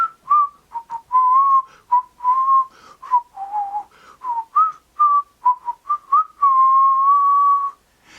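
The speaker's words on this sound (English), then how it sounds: "I can barely whistle." Solo whistled melody by one person, a busy run of short staccato notes with small pitch dips, ending in a long held tone; clear and close with no talking.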